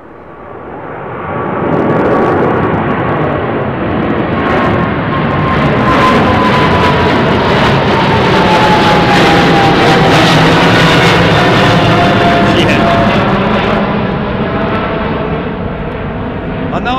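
A Boeing 777-300 jet airliner departs London Heathrow runway 09R at full power, a loud sustained engine roar swelling after the first two seconds and holding steady with a faint rising whine, while a voice talks over it.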